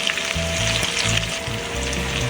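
Chopped green chillies fry in hot oil left over from frying fish in a pan, giving a steady, loud sizzle that runs alone without a break for a couple of seconds.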